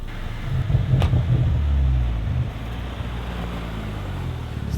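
A BMW rolls along at 30 km/h on studded winter tires, making a steady, low road-and-tire rumble. The drone swells briefly early on, then holds even and moderately loud, with no voices.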